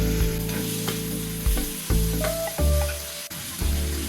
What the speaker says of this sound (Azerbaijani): Və doğradığım toyuğun sinə ətini yağa əlavə edib qarışdırıram.